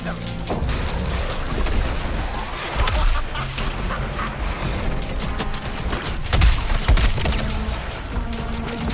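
Cannon artillery fire in the video game Suicide Squad Kill the Justice League, with repeated heavy booms and crashing blasts in a busy, loud mix of game combat sounds.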